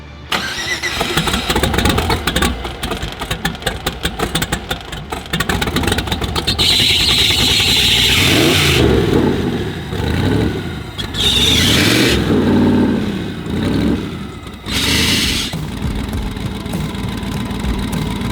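A 1200 horsepower BMW E36 kart engine cranks with a rapid stuttering starter chatter, then fires and revs hard in loud, rising and falling surges with short pauses between blasts, close by and with no talk.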